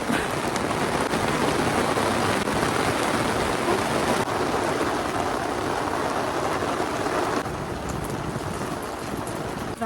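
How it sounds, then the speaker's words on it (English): Steady heavy rain falling outdoors on rural off-grid land, a dense constant hiss with no voices. "It's raining good now."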